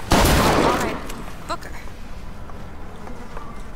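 A single loud gunshot in BioShock Infinite opens the moment with a sharp crack and a ringing tail, then fades into quieter in-game ambience with brief voices.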